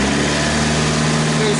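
The engine of a 2009 Saturn Aura revving steadily as the accelerator is held down, a loud, constant droning hum with a voice talking over it.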